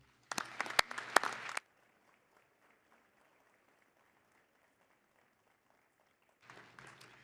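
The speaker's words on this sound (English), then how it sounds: "please give parents, families, and friends gathered here today a round of applause" A burst of audience applause at a university graduation ceremony, loud and dense, stops abruptly, leaving near silence before clapping resumes more softly at the end.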